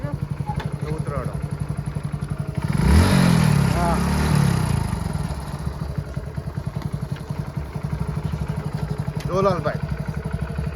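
A motorcycle being ridden putters with a steady, rapid engine pulse, surging louder for a couple of seconds before settling back. Voices talk over the engine throughout.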